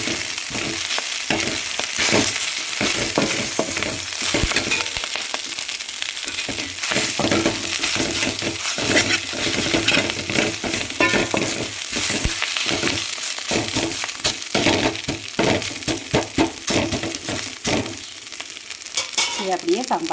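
Agathi keerai spinach sautéing in a pan for sambar gives off a steady, close sizzle and crackle, with frequent scraping and clattering from stirring throughout.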